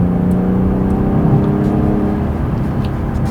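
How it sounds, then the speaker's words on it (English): BMW 8-Series Gran Coupé inline six-cylinder engine accelerating on a country road, a smooth steady drone with layered harmonics rising slightly, loud and close throughout with no talking. "really decent sounding from this inline 6-cylinder"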